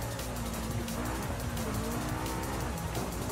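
A car in Forza Horizon 5 skidding sideways, engine droning loud and steady under a rising, wavering tire squeal that holds across the slide, all close and continuous with no voices.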